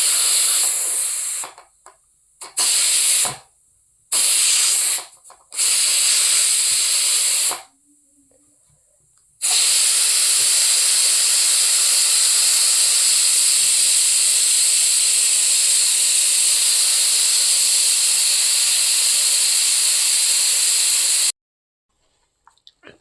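Steam escapes from a pressure cooker full of khichdi: several short, loud hissing spurts, then one long continuous jet of hiss lasting about twelve seconds before it cuts off abruptly.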